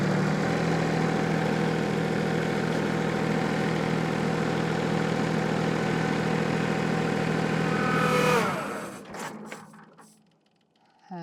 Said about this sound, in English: I'll do some revs.